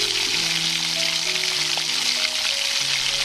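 Omelette frying in hot oil in a kadai, a steady, fairly loud sizzle that carries on without a break, with no talking over it.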